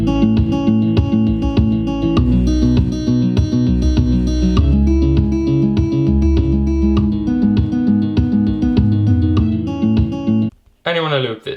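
A GarageBand-built beat recreating a song: looping bass, chords and plucked synth notes over steady percussion, loud and continuous, stopping abruptly near the end.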